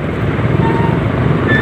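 Two-stroke motorcycle passing in heavy city traffic, its steady broadband engine rumble blending with general roadway noise and a faint high whine, continuous and fairly loud with no talk.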